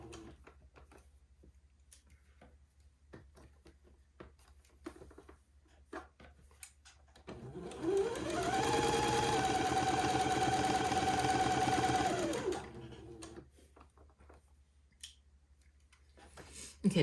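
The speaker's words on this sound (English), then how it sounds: "I need to go back to a straight stitch and sew that on, removing my pins as I come to them." A sewing machine runs a straight stitch through fabric in one continuous burst of about four seconds, a rapid close whirring hum that rises and falls away, with quiet handling clicks before and after.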